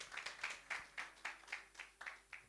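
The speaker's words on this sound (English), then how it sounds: "A round of applause." An audience claps in a short, even rhythm of distinct hand claps, fairly soft and moderately close, with no voices over it.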